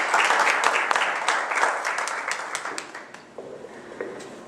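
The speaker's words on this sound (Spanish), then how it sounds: "Le vamos a dar la cordial bienvenida con un aplauso" Audience applause welcoming a speaker to a lecture on social auditing, a full burst of clapping that gradually fades and thins to scattered claps.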